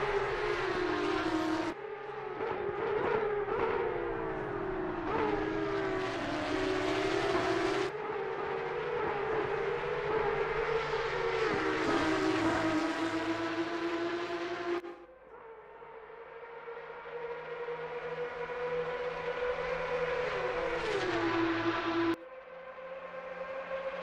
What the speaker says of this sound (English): Enjoy the noise. These Porsche Cup cars.